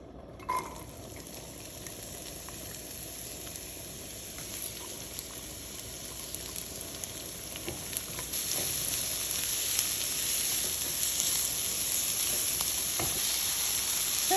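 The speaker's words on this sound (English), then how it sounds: "I am going to stir fry the onions here first." Onions stir-frying in a preheated wok for pork fried rice give a steady, close sizzle throughout, with faint scrapes and clinks of stirring that grow slightly louder toward the end.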